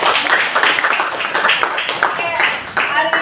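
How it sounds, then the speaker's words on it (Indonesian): A school class claps hands together in a burst of quick, overlapping claps, mixed with voices talking and calling out over the top. "Tepuk tangan dulu buat semuanya."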